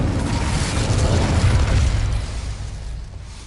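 The Incendio fire spell cast in Hogwarts Legacy, one loud, close, roaring whoosh of flame that swells briefly and then fades out, with no talk over it.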